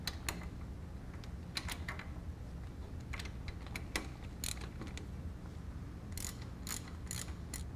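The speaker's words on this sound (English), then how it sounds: "Then I'm going to get access with it as standard ratchet instead of my impact gun." A standard hand ratchet works a hub bolt loose on a 2002 Chevy Suburban, giving quiet, scattered clicks and short bursts of rapid ratcheting over a low background rumble, with no talking.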